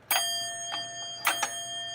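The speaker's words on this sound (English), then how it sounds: "Yep, that's the Dinner Bell." A Dinner Bell rings inside a freshly unboxed item, giving bright metallic chime strikes with long ringing overtones: one hit, a softer one, then two more close together, alone in a quiet room.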